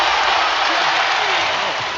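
A large crowd at a summer league basketball game gives loud, sustained applause, a dense wash of clapping that fills the whole clip. Faint voices can be heard underneath.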